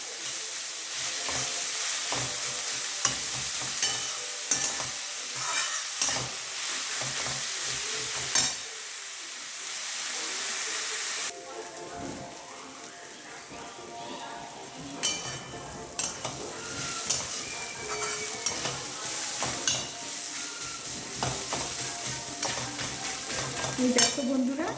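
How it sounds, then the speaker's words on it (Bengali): Salted onion frying in oil in a pan, stirred steadily until golden brown: a continuous near sizzle with frequent scraping and clinking stirring strokes throughout, no talk. "এবার লাল লাল করে আমি অনিয়নটাকে ভালো করে ভেজে নেব"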